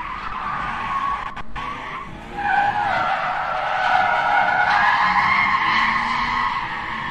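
A Toyota 86 (GT86) slides sideways through a gymkhana course, tires squealing in a long continuous screech with engine noise underneath, loud and close for the whole stretch.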